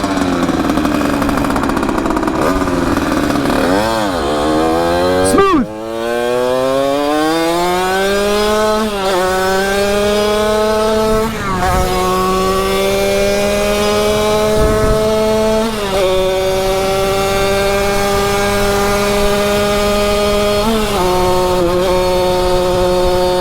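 A gas-powered Surron dirt bike revs hard in 6th gear, its loud, strained engine note climbing and dipping repeatedly through several throttle blips and shifts, close and continuous with no talk.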